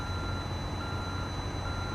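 A truck's reversing beeper in the American Truck Simulator game sounds a steady, loud electronic tone that repeats continuously over a low engine rumble, with no talking.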